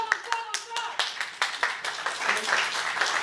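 Audience clapping for a favourite percussionist and fellow performers at a stage evening of art and poetry: scattered sharp claps that thicken into fuller, steadier applause, with a voice talking over it.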